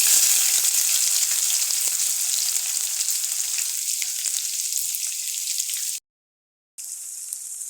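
Mustard seeds and onions fry in hot oil in a pan, giving a loud, continuous bright sizzle that eases slightly over time, then cuts out briefly before resuming.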